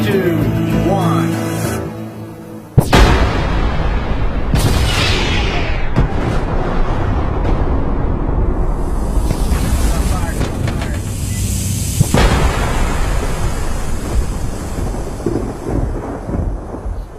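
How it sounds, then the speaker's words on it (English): Thousands of pounds of gunpowder detonate in one sudden, very loud blast, followed by a long, heavy rumbling roar that slowly fades. "In an instant, thousands of pounds of gunpowder explode"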